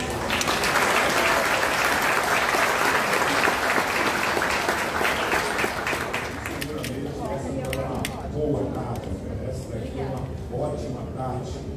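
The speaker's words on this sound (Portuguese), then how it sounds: "Para todo mundo, uma salva de palmas." A crowd applauds steadily at a launch event at Zumbi dos Palmares University, loud and sustained at first, then thinning toward the end as a voice talks over it.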